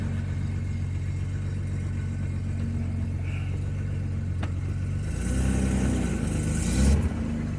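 A Datsun 280ZX engine with a newly installed clutch and flywheel idles steadily, then revs up in a couple of throttle blips near the end before settling.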